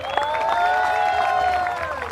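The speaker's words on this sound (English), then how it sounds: "keep that applause going for our player 2" Applause from a crowd at a gold medal final, with steady clapping running underneath sustained tonal music or chiming that dominates the short stretch.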